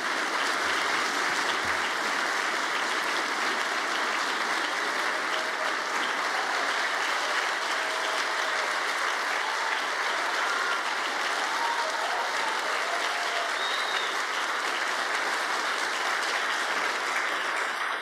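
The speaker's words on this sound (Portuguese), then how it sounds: "Pedir uma salva de palmas àqueles que fazem as polícias no nosso país" Audience applause for police officers: sustained, even clapping from a large crowd, steady and moderately loud throughout with no voices over it.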